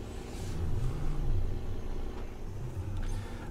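A Ford tractor engine in Sandy Bay Farm rumbles and strains under load while pulling, a low steady drone that swells a couple of times, with no voices.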